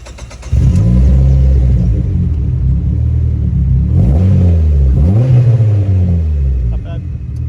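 A big-turbo Dodge SRT-4 fitted with a Borla exhaust starts up and revs repeatedly, loud and close, with rising and falling engine sweeps over a raspy rumbling idle.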